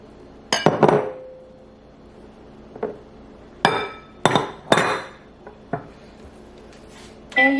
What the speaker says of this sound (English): You want to mix your pasta in there really good.